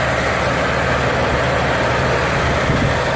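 A 1978 Cadillac Eldorado Biarritz engine idling steadily, a loud, even low rumble that holds without change.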